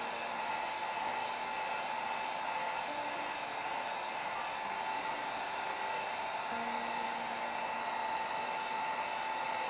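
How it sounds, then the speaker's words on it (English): A heat gun warms poured acrylic paint layers, blowing a steady, close whooshing hum with a constant tone and slight pitch shifts, continuous for about ten seconds without talk. "As the heat gun actually starts to heat up, you start seeing cells opening."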